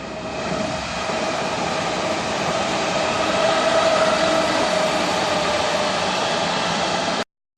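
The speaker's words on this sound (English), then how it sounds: "there's trains either side of us on the left and the right" Trains run past on both sides of a long rail bridge in urban Ilford, Essex. A steady, loud rumbling roar holds for about seven seconds, then cuts off abruptly.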